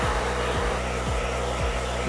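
A blow dryer runs steadily and loudly while styling curly hair, a continuous close airflow roar with a low motor hum that dips briefly in pitch a few times as it is moved.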